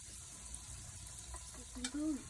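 Gulgula batter fritters deep-frying in oil make a soft, continuous sizzle and bubbling, with a short voiced sound rising briefly over it near the end.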